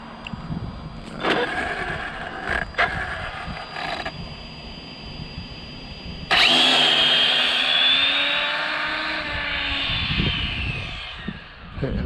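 An Arrma Infraction XLX RC car on 6S power makes a speed pass, with a faint hum early on before a loud whining motor roar bursts in and holds steady, then slowly fades as the car passes.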